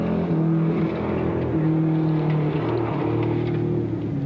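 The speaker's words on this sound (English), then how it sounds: "You can tell his motor's not running smoothly either." A 1978 rally car on a Division 1 special stage at Matahuru Gorge, New Zealand, runs roughly with an uneven misfiring note, its engine droning loudly and shifting in pitch throughout.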